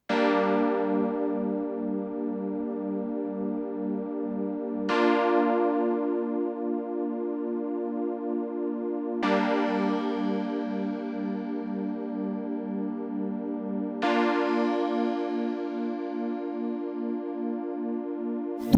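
Four sustained synth chords, each struck in turn and ringing out through Ableton Hybrid Reverb loaded with a crash cymbal convolution impulse, with a shimmering, bright wash at each attack that decays into a smooth tonal tail.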